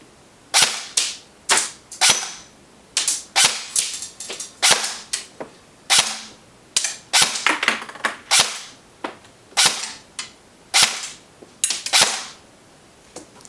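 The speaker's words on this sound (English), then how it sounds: "Now let's go ahead and chrono the Smith & Wesson M&P M4 carbine with .25 gram rounds" Smith & Wesson M&P 15 M4 carbine airsoft electric rifle firing .25 gram BBs, loud sharp single shots snapping one after another at an uneven pace, close by with no talking.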